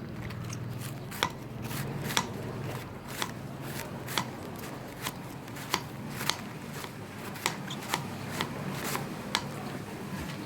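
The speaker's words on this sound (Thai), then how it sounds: "ใช้เวลาหั่นแป๊บหนึ่งนะครับ" Steady knife chopping on a board, about a dozen sharp, evenly paced strokes over a soft background hum, close and moderately loud with no talking, while preparing Thai catfish curry for rice noodles.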